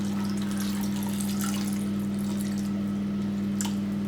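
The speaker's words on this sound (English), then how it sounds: "Top up with some water," Cold tap water runs steadily into a saucepan of sliced potatoes for homemade potato wedges, a continuous close splashing flow with no talking.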